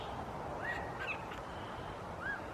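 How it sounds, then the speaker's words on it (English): Birds call outdoors during camp cooking, a few faint chirps and whistles rising over steady background noise. "Yeah, I hear you, birds."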